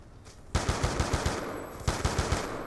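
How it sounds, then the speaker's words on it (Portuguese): Gunfire in a Call of Duty Black Ops 2 match plays as two rapid bursts of automatic rifle shots, loud and close, each a string of punchy cracks with a ringing tail. "é muito tiroteio aqui, velho"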